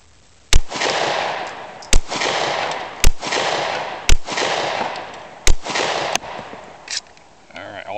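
Shots from a handgun, either a Glock 26 or a Kahr P380, fired at a middle target, seven sharp loud cracks at irregular intervals of roughly a second, each followed by a ringing echo tail.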